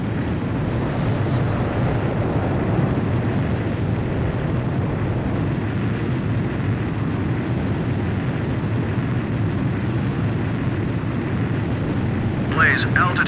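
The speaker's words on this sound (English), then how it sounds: "Blaze, you are cleared for takeoff." Jet fighter taking off by catapult from an aircraft carrier in Ace Combat 5, a loud continuous engine roar holding steady throughout, with a brief higher rustle near the end.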